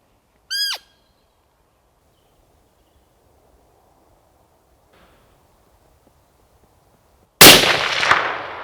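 A single loud rifle shot cracks out in woodland bracken during a muntjac deer cull, a sharp burst with a short ringing tail, preceded by a quiet stretch and one distant bird call.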